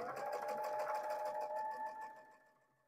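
A sewing machine stitches a quilt border with a steady, close whirring hum that runs alone and then fades away toward the end.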